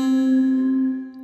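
A drum bell synthesizer preset from a Kontakt and MSoundFactory instrument collection played in Phase Plant rings out as one sustained metallic tone with bright overtones, holding steady and then fading slightly at the end.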